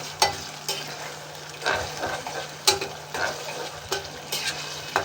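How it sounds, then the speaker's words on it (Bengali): Ginger-garlic paste frying in a home kitchen pan, a soft continuous sizzle broken by repeated scraping strokes of a spoon stirring it, close and fairly quiet with no talking. "এই তো একটু আদা রসুনের পেস্ট দিয়ে দিলাম। এখন একটু ভেজে নিয়ে"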